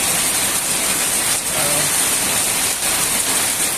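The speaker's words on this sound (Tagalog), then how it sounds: "Malakas-lakas na yung buhos ng ulan." Heavy rain from Typhoon Opong in the Philippines pours in a steady, dense hiss, constant and close, with no voices.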